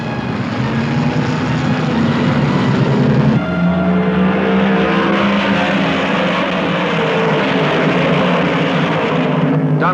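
1970 Trans-Am race cars roar past at Elkhart Lake, Wisconsin, a loud continuous engine howl with shifting pitch as the field passes, dense and close with no pause.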